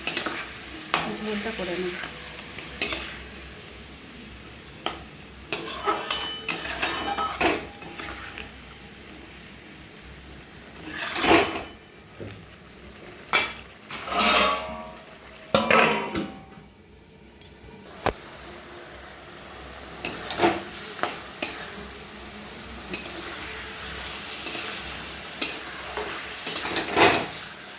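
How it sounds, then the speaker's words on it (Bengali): Ground spice paste being sautéed in hot oil in a home kitchen pan for a curry, with steady frying sizzle and intermittent scraping stirring strokes, while a voice talks briefly over it. "বাটা মশলা সব দিয়ে দিচ্ছি একসঙ্গে। এবার এটা ভালো করে কষে নিয়ে"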